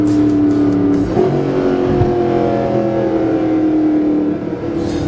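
A Mercedes-Benz SLS AMG cruises at highway speed with a steady, loud engine drone and heavy road and wind roar, heard from inside the car. The pitch shifts slightly around the one-second mark.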